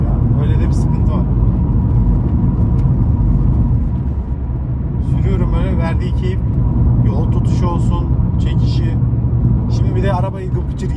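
Steady, loud rumble of a car being driven on the road, engine and road noise running throughout, with someone talking over it.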